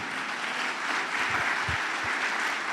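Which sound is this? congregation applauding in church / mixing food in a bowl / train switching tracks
congregation applauding in church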